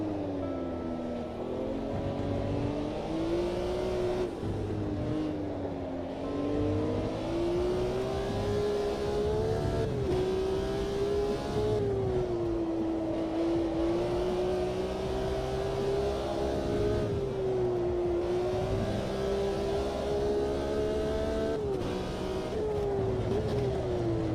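A V8 race car engine in the Automobilista 2 racing sim, a continuous droning roar whose pitch rises and falls through gear changes and braking, loud and close for the whole stretch, with no speech.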